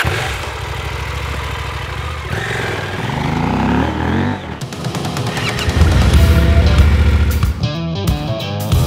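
A KTM 790 Adventure R motorcycle riding off-road, its engine droning steadily and then revving up and down, loud and close throughout.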